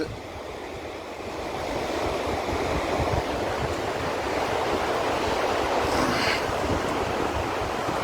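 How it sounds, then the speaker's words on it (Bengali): Sea waves wash steadily onto the beach at Digha, where crowds are bathing, with a constant loud surf roar and wind noise on the microphone and no talking. "এই যে হাজার হাজার লোক দীঘাতে স্নান করছে"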